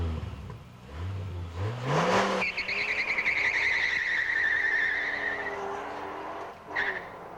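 A Formula SAE race car revs up hard during acceleration runs and accelerates past with a rising engine whine, then holds a long high-pitched drone before a brief final rev.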